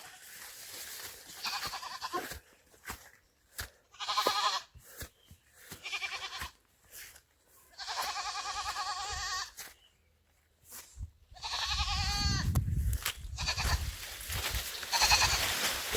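Several goats bleating close by, repeated loud wavering calls in irregular bursts with short quiet gaps, one call overlapping low rumbling noise.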